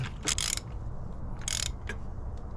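A ratchet wrench clicks in a few short bursts while a fitting, wrapped in thread tape, is tightened on a 1986 Chevy G20 van, with quiet pauses between the strokes.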